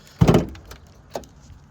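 The bonnet of a silver Ford Transit 350 van is released and lifted, a dull thunk of the latch followed by a lighter metallic clunk a moment later, close and clear.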